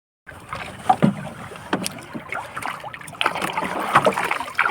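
A small wooden outrigger bangka rides big, windy open-sea waves, with a steady rush of wind and water broken by repeated louder slaps and thumps as the hull bounces, close and loud with no talking.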